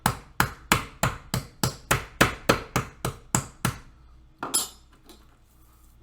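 A chicken breast fillet is pounded flat on a board with about a dozen evenly spaced, sharp thumping blows, close and loud. A brief clatter follows as the tool is set down, then near silence.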